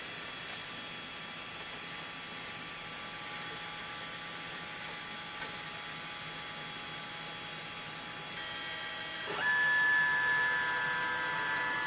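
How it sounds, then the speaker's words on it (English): A Printrbot Play 3D printer whirs during its self-check, with steady high-pitched motor tones that step abruptly in pitch as it moves, alternating between segments, over a constant background hum. "There, the printer's moving now, so it does a check."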